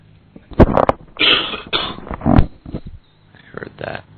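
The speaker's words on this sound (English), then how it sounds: "You have to try not to cough in the mic." A person coughing right into a microphone while playing a Minecraft UHC match, giving several harsh, close, distorted bursts separated by short pauses.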